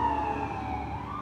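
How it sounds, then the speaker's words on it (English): Emergency vehicle sirens wail outdoors in a long, steady, slowly falling tone at moderate distance, with no talking. "sorry, there's some sirens going on"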